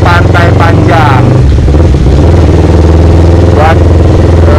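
A Yamaha R25 sport bike modified to look like a BMW GS, riding along a quiet coastal road. Its engine drones loud and close under heavy wind rumble, with a rider talking over it.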